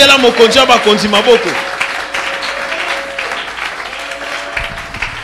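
A church congregation applauds together at a Christian seminar, a broad wash of clapping that swells loudly at first and then settles into a steady patter, with a preacher's voice and harmonic speech carrying over it throughout.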